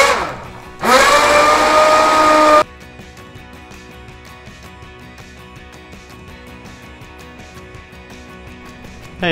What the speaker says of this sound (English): use an immersion blender and just blend it up to get rid of those chunks from the peaches